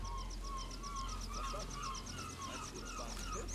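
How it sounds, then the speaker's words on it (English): Seagull calls in the Sniper Elite 5 video game, a steady run of repeated loud cries that carry through the whole stretch over a constant background drone, with no talk. "Bloody hell, the seagulls are loud."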